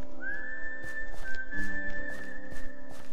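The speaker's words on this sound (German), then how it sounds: "Ich pfeife auf dem Heimweg." A single sustained whistled tone held steady by a person heading home in Minecraft, rising briefly at the start and then staying level, over soft footstep-like thuds.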